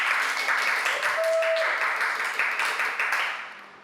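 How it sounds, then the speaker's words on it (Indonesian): Audience applause for a band on a talk show, a steady wash of clapping that tapers off toward the end, with a faint voice beneath it. "Tepuk tangan guys, Malaysia."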